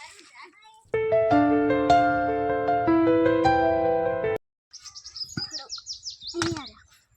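Sparrows chirp in quick, bright bursts after a stretch of loud music, the calls close and lively while being fed grain, with a little child-like chatter mixed in.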